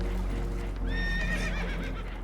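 A spooked horse gives a sharp, wavering whinny in Red Dead Redemption 2, aboard a damaged boat that is taking on water. The neigh is loud and near, over a low rumbling background.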